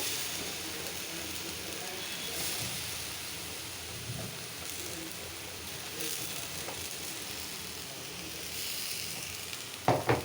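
Eggplant pieces sizzling steadily in a pan of hot oil left from cooking rohu fish, a continuous fry hiss with faint stirring and a few sharper clicks near the end, no talking.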